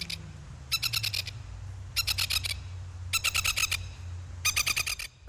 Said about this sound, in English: it's definitely a bird.